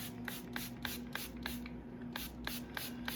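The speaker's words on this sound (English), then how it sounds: "go ahead and spray the t-shirt" Quick, rhythmic hissing sprays of dye onto a t-shirt repeat about three times a second, soft and close, each a short burst of mist over a quiet hum.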